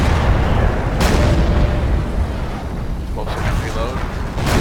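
An IS-2 Berlin Soviet tank cannon fires in a tank video game, a couple of sharp booms over a rumbling battlefield din, with a voice talking underneath.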